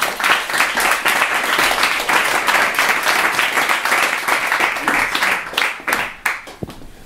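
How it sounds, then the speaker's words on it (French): Loud, dense applause from an audience at a public hypnosis session, continuous clapping that thins out near the end. "Ah, vous pouvez l'applaudir."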